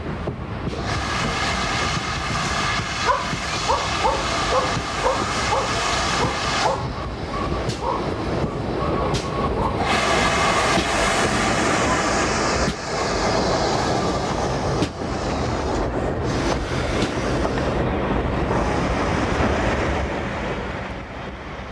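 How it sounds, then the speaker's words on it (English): Steam locomotive No. 440, a veteran 1903-built engine, arriving at Bodmin General station on a branch service from Bodmin Parkway: steady loud rumble of wheels and carriages with rail clatter and brief squeals, continuous and close throughout. "Bodmin General, the 440 arrives on another service from Bodmin Parkway"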